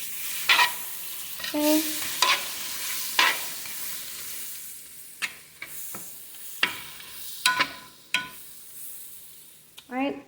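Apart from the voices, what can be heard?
butter melting in a pot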